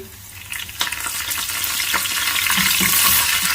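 Oil crackles and sizzles steadily in a pan as dried red chilies and curry leaves fry, with scattered pops and a brief scrape of stirring, the frying growing slightly louder toward the end.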